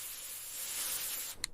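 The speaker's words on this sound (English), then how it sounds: "I spray air freshener." Air freshener sprays from a can in one steady, close hiss lasting about a second, ending with a brief click.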